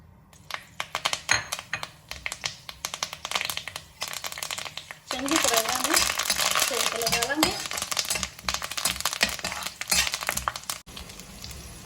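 Red chilli, cumin, curry leaves and mustard seeds sizzle in hot ghee: sparse crackles at first, then a loud, dense popping hiss surging midway, with someone talking throughout.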